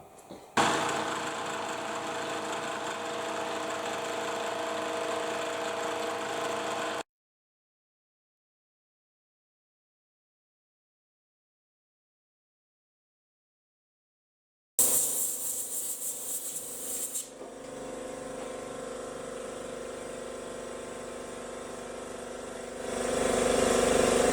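A ThreadExpress attachment machines a short M6 thread at 1 mm pitch down to a shoulder, producing a steady motorized whir that runs for several seconds, cuts to silence, then resumes with a shifting tone.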